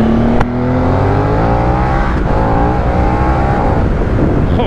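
A Paika motorcycle with a short exhaust revs hard, its loud engine note sweeping up and holding steady close by, with a sharp pop near the start and another midway.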